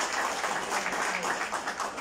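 Audience applause for a new municipal PRI committee member at a swearing-in event in Izúcar de Matamoros: steady, dense clapping held at moderate volume across the whole stretch, with no pauses.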